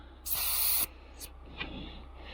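A bicycle tire's valve is pressed to let air out before a forest gravel ride, a short sharp burst of hissing followed by a few fainter, briefer puffs.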